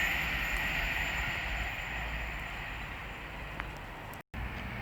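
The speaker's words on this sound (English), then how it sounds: "We're about to have LNER Zuma pass by from London King's Cross to Lincoln Central." An LNER Azuma train passes at Sandy on the East Coast Main Line, a steady broad rush of rail noise with wind hiss, close and continuous throughout.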